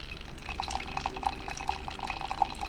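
Brewed first-flush Darjeeling white tea poured quickly into a cup, a soft continuous liquid stream with small drips and light glassy clinks, close and quiet, with no talk.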